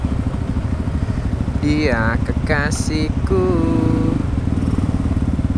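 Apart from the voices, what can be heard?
motorcycle engine revving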